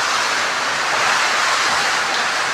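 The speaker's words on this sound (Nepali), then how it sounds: "बतासले हानेको पानी चाहिँ जसको घरमा पनि छिर्छ" Wind-driven rain and water during a storm at a house, a loud, dense rushing hiss that holds steady and unbroken with no voices.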